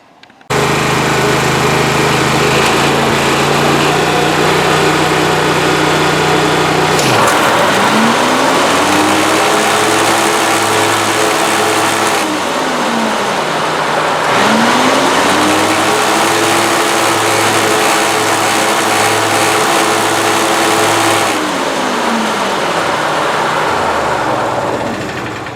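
An Exmark Ultra Vac lawn mower vacuum's small engine runs loudly and steadily, surging up and down in pitch twice, with a rapid rhythmic knocking from something hitting inside.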